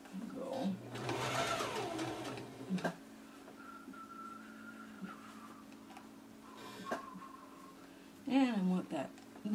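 A sewing machine stitches small fabric scraps and crumbs into a kawandi quilt, its motor whirring in short, quiet bursts with pauses between runs and faint handling noises.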